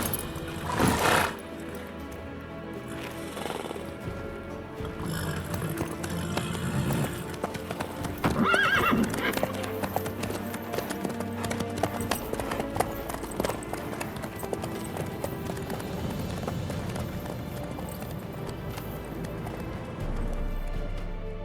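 Horse hooves clip-clop steadily through The Witcher 3 video game, with a neigh early on, set under a busy layer of ambient game sound and music.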